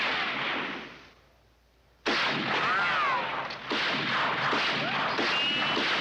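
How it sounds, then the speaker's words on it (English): Gunfire with bullets ricocheting in the 1950 western Winchester '73, loud continuous bursts of shots and whining ricochets that fade briefly, then return in full force. "it's even scarier because the bullets ricocheting everywhere"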